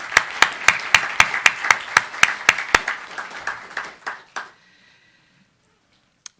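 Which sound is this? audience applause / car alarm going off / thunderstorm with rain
audience applause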